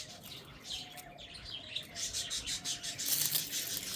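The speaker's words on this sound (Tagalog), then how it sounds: "Iingay ng mga ibon ko guys." Birds chirp and tweet busily nearby, overlapping high calls in quick irregular bursts, growing denser toward the end.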